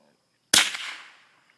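A single sharp gunshot fired up into the air at a bird outdoors, a loud close crack after silence that fades in a short echoing tail.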